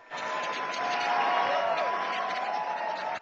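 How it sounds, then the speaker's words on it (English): Large political rally crowd erupting in sustained applause and cheering for a presidential nominee, a dense continuous roar lasting the whole stretch. "The crowd was wild at one point, completely drowning McCain out with a blast of applause and cheering"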